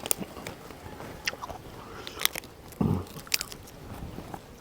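Fried crab being bitten and chewed close up, a few sharp crunchy bites scattered between quieter chewing and mouth sounds, with no talking.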